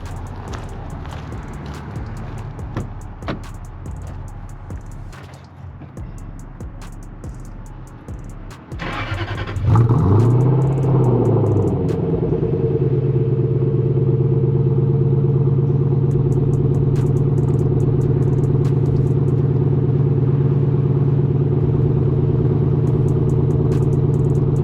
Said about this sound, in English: I'll do a cold start for you